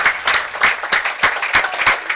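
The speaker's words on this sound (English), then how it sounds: "A round of applause from the stadium and both sides." Stadium spectators at a college football game between the Spartans and Milliken applaud after an injury scare, a dense crowd clapping with rhythmic peaks that stays loud and continuous throughout.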